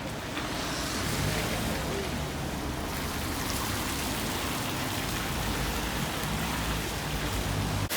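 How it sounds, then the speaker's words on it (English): Rain falls outdoors in a steady, dense hiss with no voices, a constant wash of patter close by for the whole stretch. "it is just raining"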